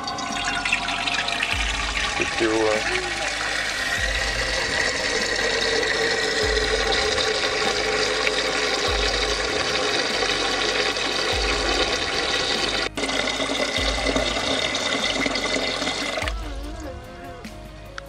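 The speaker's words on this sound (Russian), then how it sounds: "Вот в эту чашу нам нужно залить воды будет сейчас." Water being poured or run into a multicooker bowl, a steady continuous stream of liquid lasting the whole stretch, fairly loud and close, with a rhythmic low thumping underneath.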